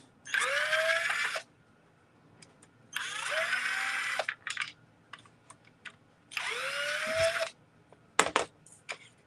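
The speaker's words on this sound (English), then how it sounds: "I'm just going to use my drill to take these screws out." A power drill whirs in three short bursts separated by pauses, with small clicks and knocks between them, close by, as it removes screws from thrift-store wall sconces.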